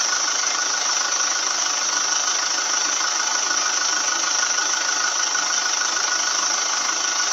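A Mazda BT50 / Ford Ranger engine idles steadily, a loud, even mechanical hum and whir that holds unchanged from close by, with no voices.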